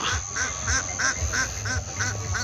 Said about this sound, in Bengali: দেখুন হাঁস যাচ্ছে।